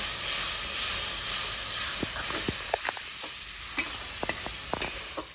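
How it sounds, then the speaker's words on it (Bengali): Water goes into frying masala for dhaba-style chicken and sets off a steady sizzling hiss, with scattered sharp clinks and scrapes of stirring breaking through at close range. "তো বন্ধুরা একটু আমি জল দেবো, জল না দিলে আমার মশলাটা পুড়ে যাবে।"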